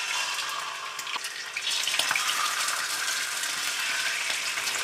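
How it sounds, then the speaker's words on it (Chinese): Marinated fish frying in oil in a cast iron pan over low heat, a steady dense hiss and crackle with a few louder pops, close and continuous, no voices. "跟着我们就可以把咱们腌好的这个鱼啊给它下锅煎了"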